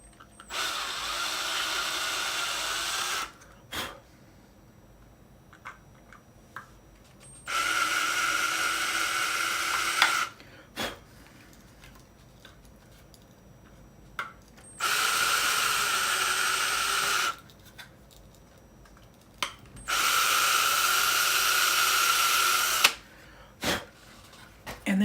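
A power drill enlarging screw holes in a GameCube case, running in five steady whirring bursts of a few seconds each, separated by quiet gaps with small clicks and handling noises.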